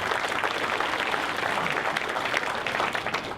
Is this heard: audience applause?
yes